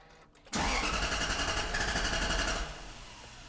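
Toyota 1UZ V8 engine swapped into a Subaru BRZ firing up for the first time, a sharp loud catch after brief cranking, then a steady rough-edged close rumble that settles slightly quieter into idle.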